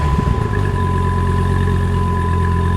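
A Dodge Viper V10 car engine idles steadily nearby, a smooth continuous rumble with a higher whine running through it, briefly rougher at the start.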